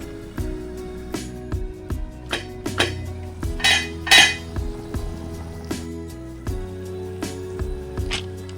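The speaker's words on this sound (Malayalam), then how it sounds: "ഇനി ഇത് നന്നായി ഒന്ന് ഇളക്കി ഒരു അഞ്ച് പത്ത് മിനിറ്റ് മൂടി വെച്ച് വേവിക്കണം" A spoon scrapes and knocks against a metal pot while sago kichadi with potatoes and curry leaves is stirred, a series of close, ringing clinks and scrapes in an uneven rhythm, no voices.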